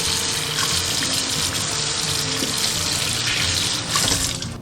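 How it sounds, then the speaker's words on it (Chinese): Tap water running steadily into a kitchen sink while a sea bass is rinsed clean, a close, continuous splashing flow with no talking. "先把鱼清洗干净"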